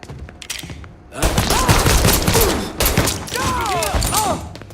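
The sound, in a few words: gunfire in the video game Mafia III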